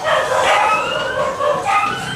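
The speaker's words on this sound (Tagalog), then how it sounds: "rinig pa ang tahulan ng mga alagang aso kasabay ng paglindol" Pet dogs at a house in Ormoc City bark and howl in overlapping bursts during an earthquake, the yelps rising and falling at moderate distance.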